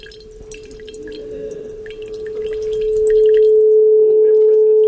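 Water leaking from a hole in a water bottle, a thin steady tone with faint drips that swells louder and holds through the second half; no talking.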